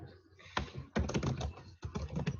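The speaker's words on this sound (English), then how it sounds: "I can see you typing." Someone types on a computer keyboard in quick, uneven bursts of clicking keys, close and fairly quiet, with a short pause between runs.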